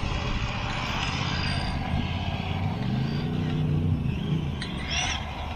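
A Tamiya TA02 radio-controlled car with an Opel Calibra body drives outdoors, its electric motor whining and rising in pitch under a steady wind-like rumble, fairly close, with no talking.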